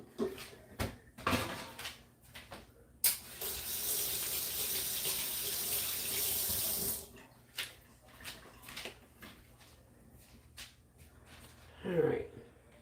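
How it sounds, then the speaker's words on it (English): Kitchen tap running while hands are washed, a steady rush of water for several seconds between scattered clatters and knocks, with talk nearby at the end. "I'm going to go wash my hands again."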